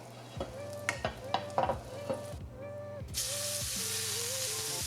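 A tablespoon of olive oil and a tablespoon of butter melt in a pan for shrimp and grits, with clanks and knocks of handling before a bright steady sizzle rises and holds.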